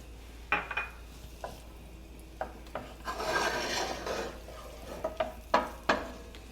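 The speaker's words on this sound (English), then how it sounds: "We'll stir that around until the onions are translucent" Half a small onion being stirred in a pan, scraping rubs and clinks of a utensil against the pan with a low sizzle underneath, close and moderately quiet.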